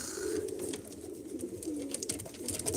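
Tumbler pigeons coo at a pigeon auction, a soft, steady low murmur of calls heard up close without voices.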